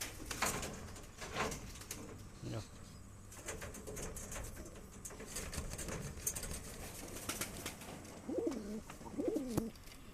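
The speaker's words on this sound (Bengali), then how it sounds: "পায়রা দুটোকে খুব ভালো করে লক্ষ্য করুন" Two Saharanpuri high-flying pigeons coo softly amid outdoor background noise and scattered clicks, with a couple of clearer rolling coos near the end.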